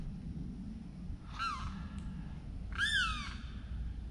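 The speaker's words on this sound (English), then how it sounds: "Now I got a bird yelling at me." Outdoors beside water on a bass fishing trip, a bird gives two loud, harsh crow-like caws, the second longer and stronger, over a low steady background rumble.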